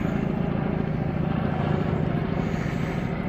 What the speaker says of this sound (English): So you got a helicopter.